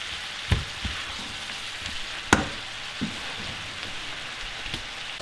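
Minced meat browning in a pan for lasagne, a low hiss broken by a few sharp scrapes and knocks as it is stirred, close and fairly quiet, with no speech.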